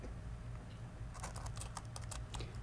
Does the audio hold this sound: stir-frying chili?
no